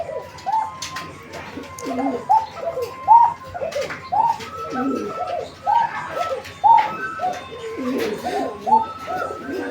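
Pigeons at a bird market give repeated soft, throaty coos in a steady rhythm, close by and layered over one another, with faint background chatter.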